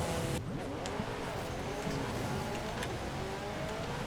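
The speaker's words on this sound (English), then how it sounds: "This is a 2005 Honda NSX-R, about to go on its run" A 2005 Honda NSX-R in Forza Horizon 5 launches in a drag race. After a sharp onset the engine holds a loud, steady, high-revving roar with faint tire noise, heard alone.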